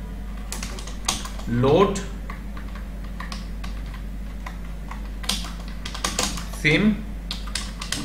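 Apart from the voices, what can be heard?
typing code on a computer keyboard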